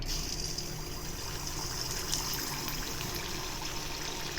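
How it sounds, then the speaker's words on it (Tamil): A ladle of batter pours into hot oil for paniyaram, giving a steady, even hiss and bubbling sizzle with no talk over it. "இப்போ ஒரு கரண்டி மாவு எடுத்து இப்போ ஊற்றிடலாம்"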